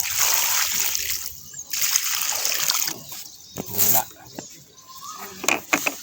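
Water is poured onto sandy soil around a newly planted lychee tree, splashing and trickling in bursts with short pauses, close and fairly loud, with faint talk at moments.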